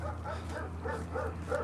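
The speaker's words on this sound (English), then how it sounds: "No, the one in the living room is way nicer. The puppies." Puppies yipping and whimpering in a few soft, high bursts over a low background hum, fairly faint and close.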